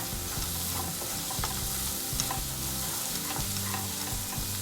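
Vegetable curry masala sizzles and fries in oil while being stirred, a steady close crackle with rhythmic scraping strokes of the spoon against the pan.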